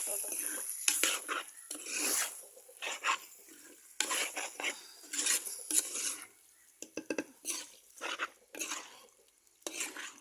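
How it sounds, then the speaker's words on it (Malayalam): A spoon stirring masala into chicken liver curry in a pan, giving intermittent scraping clatters with soft sizzling between them, fairly quiet and close. "ഇനി ഇത് നല്ലതുപോലെ മസാല എല്ലാം യോജിപ്പിക്കാം നമുക്ക്"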